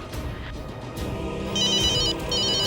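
A telephone rings in bursts of bright electronic trills over a busy background hum, two rings clearly heard near the end.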